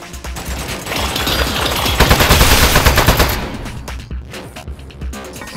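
Rapid automatic gunfire from a turret in the video game Aperture Desk Job, a loud sustained burst of shots that swells and then breaks off into scattered clattering impacts, with no voices over it.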